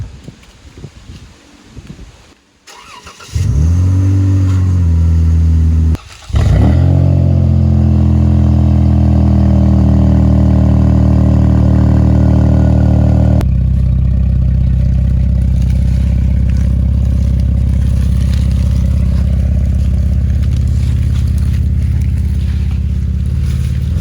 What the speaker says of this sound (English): we're gonna give y'all that first startup, let y'all hear it real quick